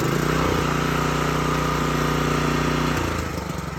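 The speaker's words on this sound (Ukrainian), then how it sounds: "Ось зараз покажу, як тепер працює двигун. Ідеально запускається." A repaired Honda small engine runs loud and close at a fast, even idle, its steady throbbing putter shifting slightly in pitch and easing off near the end.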